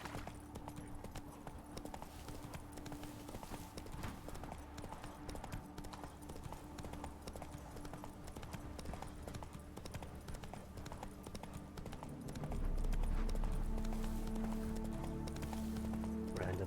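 Hooves of the horse Roach running in a video game, a steady clip-clop rhythm under a bed of game music and ambience, growing louder and fuller near the end.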